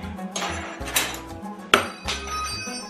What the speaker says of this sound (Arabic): كاين شي معالق خصنا نردهم من بلاصتهم.